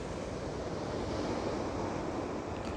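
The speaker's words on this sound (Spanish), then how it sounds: "Y llegamos a la playa de Arnao." Waves breaking on the shore at Arnao beach in Castrillón, Asturias, a steady broadband surf roar mixed with wind, continuous and fairly loud with no voices.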